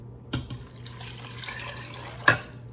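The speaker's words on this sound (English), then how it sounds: "And then I'm gonna do like 3 cups of water." Water poured into a pot of pinto beans for Mexican-style beans, a close, continuous liquid rush framed by two pot knocks.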